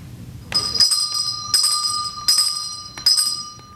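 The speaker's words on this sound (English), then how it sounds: "It is now time for the dismissal bell." School dismissal bell ringing during a stage play, loud bright electric rings in four bursts of about a second each, separated by short gaps.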